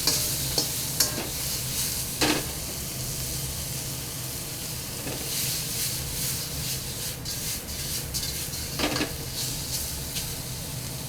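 Shrimp stir-fried in oil over a high flame in a wok, giving a steady, close sizzle with scraping stirs and a few sharper clatters, no voices.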